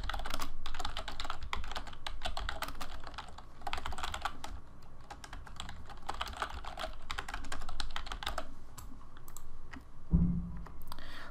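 Website names are typed on a computer keyboard in a steady run of close, rapid key clicks with short pauses, ending in a single firmer tap, and no one speaks.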